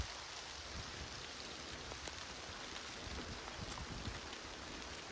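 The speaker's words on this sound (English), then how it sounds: "Here comes the rains. We need them, every drop." Steady rain falls in a Southern California garden, a soft, even hiss of drops on surfaces with occasional closer patters, with no voices.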